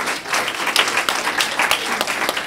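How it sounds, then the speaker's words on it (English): An audience at a political talk applauds a speaker, a close, lively burst of many hands clapping with sharp individual claps standing out, continuing throughout without speech. "Give him a round of applause."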